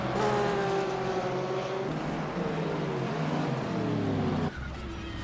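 A Porsche GT3 race car at speed on the Laguna Seca track, its engine roaring and shifting pitch through the gears before abruptly dropping in loudness, with faint tire noise beneath.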